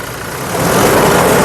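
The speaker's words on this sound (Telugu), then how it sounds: "ఇంజన్ చూపిస్తున్నాను చూడొచ్చండి ఇంజిన్ యొక్క నాయిస్ కూడా సైలెంట్గా అయితే ఉంది" A 2018–19 Toyota Innova Crysta 2.4 G diesel engine idles with the bonnet open, a steady mechanical hum that swells slightly louder after the first half second and then holds even.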